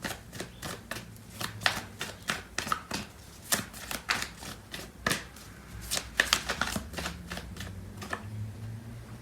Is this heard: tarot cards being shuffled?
yes